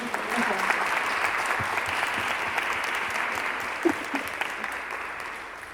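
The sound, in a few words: applause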